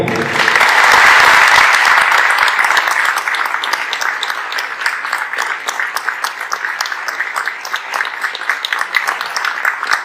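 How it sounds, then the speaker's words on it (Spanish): Audience applause in a crowded hall at the Argentine Congress, a loud dense wash of clapping that swells at the start and then carries on steadily, with no voices standing out. "Recibimos con un fuerte aplauso"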